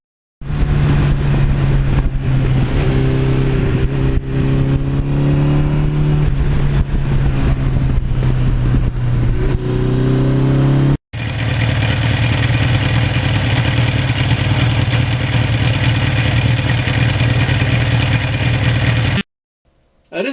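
A 40-year-old Suzuki GS1100E motorcycle engine runs loud and steady through its exhaust, idling with a deep throb and rising in pitch as it revs, then cutting off.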